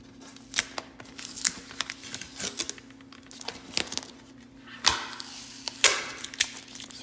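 Tape being peeled off an epoxy-patched hockey stick, close crackling rips and crinkles in uneven bursts with sharper tearing snaps.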